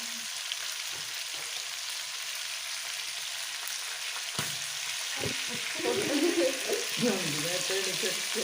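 Tandoori chicken sizzles and fries in a pan with a steady, even crackle; near the end, clinks and stirring noises of turning the pieces come in over the frying.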